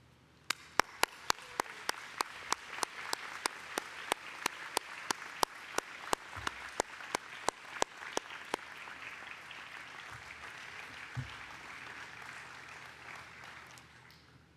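A graduation ceremony audience for arts, social sciences and humanities graduates bursts into steady, sustained applause from a large crowd, with a few louder distinct claps near the front that thin out while the broad clapping carries on to the end.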